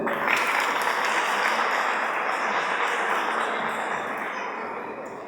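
Sustained audience applause welcoming two singers onto the stage at a music launch event, a dense, even wash of clapping from a crowd that holds steady and then begins to taper off at the end.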